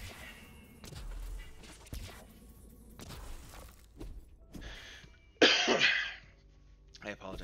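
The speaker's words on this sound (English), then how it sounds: "I apologize for the cough." A person coughs near the microphone, loud and harsh, among softer thumps and clicks during a game session, heard mostly alone.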